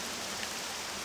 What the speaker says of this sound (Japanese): 雨の色が変わった。